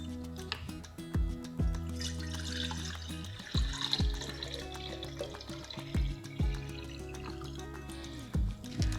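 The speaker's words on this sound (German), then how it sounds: "ich werde jetzt mein sauberes Wasser in die Karaffe reingeben." Purified water from an Ecoviva WP-RO-200G reverse osmosis system poured into a glass carafe, a steady trickling fill with repeated close drips and splashes throughout.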